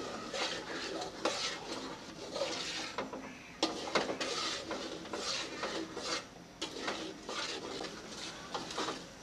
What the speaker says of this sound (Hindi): चम्मच हिला हिला के इसे पकाना है